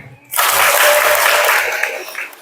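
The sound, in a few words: audience applause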